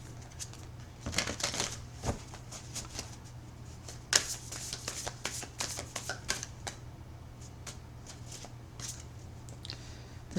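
Tarot cards being shuffled by hand, with repeated riffling and soft slapping bursts in an irregular rhythm over a low steady hum, close and fairly quiet.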